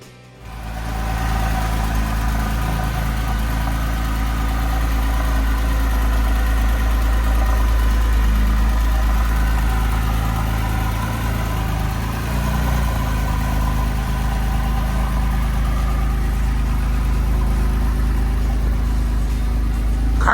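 A Porsche engine idles in a steady low rumble close to the microphone for about twenty seconds, with no voices over it, before setting off for a Sunday morning car and coffee meet in Lake Havasu.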